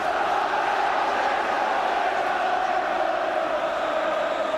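Football crowd at a 1984/85 Manchester City v Charlton Athletic match, a steady, loud roar of many voices with mixed shouting and chanting that holds evenly throughout.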